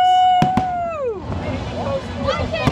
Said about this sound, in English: fireworks. Woo! That is freaking awesome!